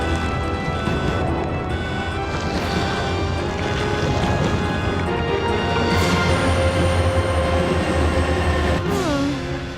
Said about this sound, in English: We have to stop the train, right?